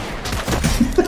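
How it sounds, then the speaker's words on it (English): Gunfire in the video game Fortnite during a gun-game match, with a short burst of rapid shots over about a second, fairly loud and close against a busy game background. "I saw a lot of gunshots"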